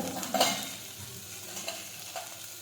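Cowpea vegetable sautéed in a pan gives a soft sizzle with a few brief stirring scrapes over about three seconds, close and quiet, with no talk.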